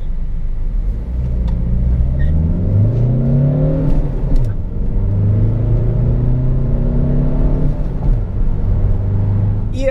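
A facelifted Peugeot 508 GT Line with a 2.0 BlueHDi 150 hp diesel engine on the road, giving a steady low engine drone and road rumble from inside the cabin, with the engine pitch rising and falling as it accelerates and shifts.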